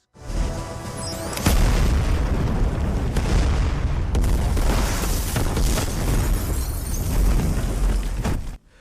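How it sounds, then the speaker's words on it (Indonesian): A bomb blast in an Indian action film: a loud, deep boom erupts and rumbles on for several seconds, with further crashing bursts and debris layered over the sustained roar before it cuts off abruptly. "Dia meledakkan bom yang sebelumnya sudah dipasang."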